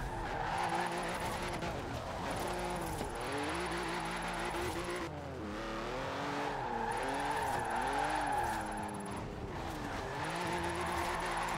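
A BMW i8 drifting in Forza Horizon 4, its engine note swooping up and down through repeated slides while tyres skid and squeal continuously, loud and close, with a brief break in the middle.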